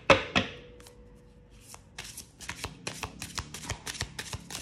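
Oracle deck cards shuffled by hand, a quick run of soft riffling flicks and slaps that repeat steadily, close and fairly quiet with no talking.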